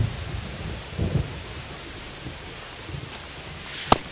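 A thunderstorm at a ballpark in MLB The Show 25: steady rain hisses throughout, low rumbles of thunder come and go, and a sharp crack of thunder strikes near the end.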